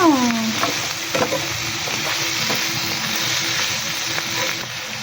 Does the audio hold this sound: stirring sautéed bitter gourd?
yes